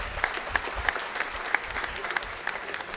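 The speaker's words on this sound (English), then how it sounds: "A huge round of applause, everybody, once again for all our guests" Audience at a business school inauguration applauding the guests, a moderate round of clapping with distinct individual claps popping out of the steady patter.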